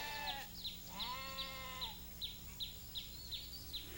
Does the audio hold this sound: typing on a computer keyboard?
no